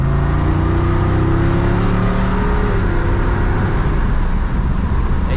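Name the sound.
Jeep Wrangler exhaust rumble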